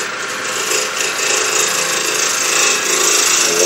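A wood lathe spins a punky wood blank while a tool cuts a tenon, making a steady, loud hissing scrape that holds without a break, close by, with no talking.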